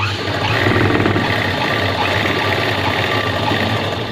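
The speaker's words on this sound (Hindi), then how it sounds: "इस तरीके से हम जो है ये सिलाई" Sewing machine stitching a pocket onto a pair of pants, a loud continuous mechanical whir with a fast even rattle running steadily throughout, close up and with no talk.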